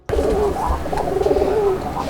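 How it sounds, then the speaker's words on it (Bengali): Local pigeons cooing steadily and close, soft throaty coos repeating in a continuous rolling rhythm with no talking. "আমাদের দেশি কবুতরগুলো খুব সুন্দর আর মিষ্টি করে ডাকতে পারে"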